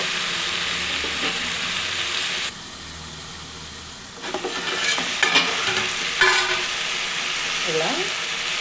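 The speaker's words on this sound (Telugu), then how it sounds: "కట్ చేసుకున్న మునక్కాయలను కూడా వేసుకోండి ఈ ఒక్క ఐదు నిమిషాల పాటు బాగా మగ్గనివ్వండి ఈ ఆయిల్లో" Drumstick pieces cooking in oil for a salted fish and drumstick curry, a continuous close sizzle that drops quieter midway, then returns with light clatter and stirring.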